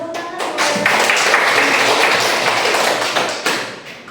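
A classroom full of students claps together in a sustained, dense burst of applause lasting several seconds, close and loud.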